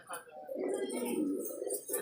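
Tournament racing pigeons coo in a breeder's loft, a soft, throaty rolling call close by that continues for about two seconds as people talk nearby.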